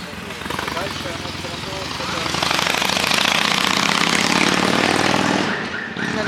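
An engine drones steadily, swelling louder in the middle and fading near the end, as a motorcycle passes close by on a street in Kyiv.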